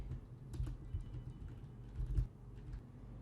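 Quiet typing on a computer keyboard while writing code, soft irregular key clicks over a low background hum.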